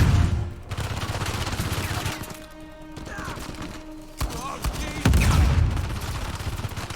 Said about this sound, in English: That grenade launcher's really making things a mess.